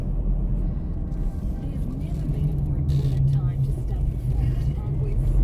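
Heavy rubbish dump trucks rolling along a busy uphill road near Melbourne Airport on an overcast, dewy morning, a steady loud low engine rumble with passing traffic, continuous throughout.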